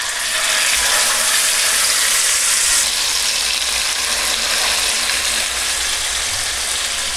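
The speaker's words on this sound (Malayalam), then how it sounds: "എണ്ണ ചൂടായിട്ടുണ്ട് നമുക്ക് ചിക്കൻ പീസുകൾ ഇട്ട് കൊടുക്കാം" Chicken pieces for tandoori chicken drop into about three tablespoons of hot oil in a pan over high flame, giving a loud, dense, continuous sizzle and crackle close up, with no talking.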